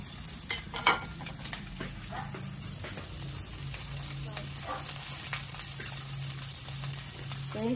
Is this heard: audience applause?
no